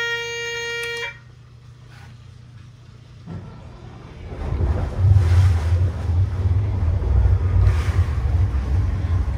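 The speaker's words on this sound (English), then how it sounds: "we're going to start the engines up" Caterpillar diesel engines start aboard a 61-foot Viking yacht at the dock. A beeping tone sounds first, then the engines crank and settle into a low, steady rumble under wind noise.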